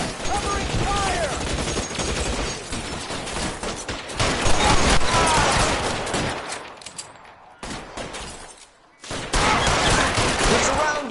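Gunfire in an L.A. Noire shootout: loud bursts and rapid overlapping shots, close and harsh, broken by a brief lull before resuming, with shouted voices mixed in.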